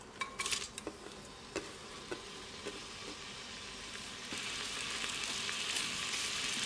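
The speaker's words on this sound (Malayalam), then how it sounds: "ഇനി ഇതിലേക്ക് ഒരു സവാള നീളത്തിൽ കനം കുറച്ചരിഞ്ഞതാണ്, അത് ചേർത്ത് കൊടുക്കുക" Thinly sliced onion frying in hot oil, heard as a steady sizzle with a few clinks of utensils near the start, then a louder, denser hiss of frying toward the end, with no talking.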